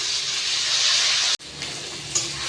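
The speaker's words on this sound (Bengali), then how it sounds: "এবার এটাকে একটুখানি কষাতে হবে।" Ginger paste and tomato sautéing in a pan give off a steady, loud sizzle and hiss. The sound cuts out briefly, then returns a little softer.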